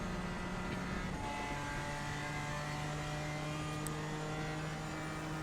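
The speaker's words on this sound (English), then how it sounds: "we're gonna go ahead and get on the accelerator again. Let's go. Let's go. Through the gears with the beautiful BMW" BMW M4 GT4 race car in Assetto Corsa Competizione at Monza, engine droning and climbing in pitch through the gears, a steady loud in-car tone with a shift partway through.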